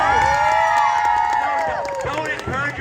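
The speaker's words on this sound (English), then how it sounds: "Unless we can get a really big cheer here." A circus act audience whoops and cheers loudly at close range, the crowd noise rising and swelling around scattered shouts and a few claps.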